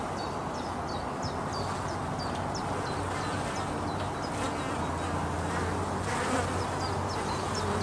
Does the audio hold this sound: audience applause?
no